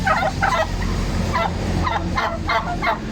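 Farm turkeys ready for slaughter gobbling repeatedly in short bursts, several birds close by over a constant low background rumble.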